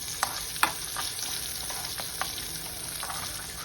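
Mustard seeds and urad dal sizzle in hot oil for a tempering for vakkaya kobbari pachadi, a steady soft frying hiss broken by a few sharp pops and crackles.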